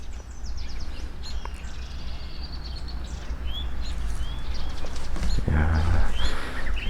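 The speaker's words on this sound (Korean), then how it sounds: "아 새소리 좋다." Birds chirp and trill intermittently in the distance over a steady outdoor rumble, with short bright calls scattered throughout, in the morning at a traditional Korean hanok guesthouse near Obongsan, Imsil, in cool spring weather.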